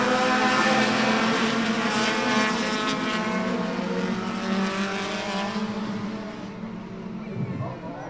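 Race cars at Cornwall Motor Speedway roar on the track as racing restarts under green. A loud, dense engine drone with layered whining pitches holds steady, then eases slightly as the cars move off.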